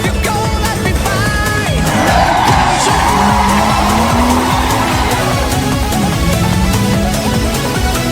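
A car drifts with a reverse lock, tires squealing and skidding loudly for several seconds while the engine drones and rises steadily underneath.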